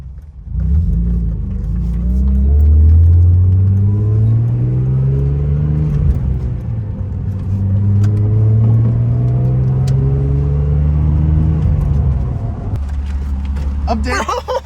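A slammed widebody BMW E36 accelerates through the gears from inside the cabin, its engine note climbing in pitch, dropping on a shift, then climbing again before easing off, with a brief clatter at the end.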